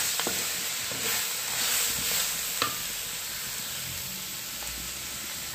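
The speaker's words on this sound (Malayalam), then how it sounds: "രണ്ട് തക്കാളി നമുക്ക് ചെറുതായിട്ട് അരിഞ്ഞതൊന്ന് ഇട്ട് കൊടുക്കാം അതൊന്ന് വഴറ്റിയെടുക്കാം" Chopped tomatoes sautéing with onions in a pan while cooking a country black chicken curry with green peppercorns, giving a soft steady sizzle with a few stirring scrapes and clicks, close but fairly quiet and without speech.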